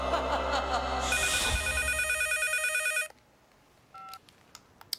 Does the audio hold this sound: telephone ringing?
yes